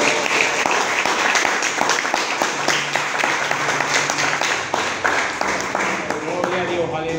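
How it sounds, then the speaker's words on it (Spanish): Loud sustained applause from a church congregation during a sermon, with voices and cheering mixed in throughout. "Dele un fuerte aplauso."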